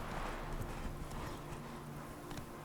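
Horse galloping in The Witcher 3 video game, a quick rhythmic clip-clop of hooves over a steady hiss and low game ambience, fairly faint, with no talk.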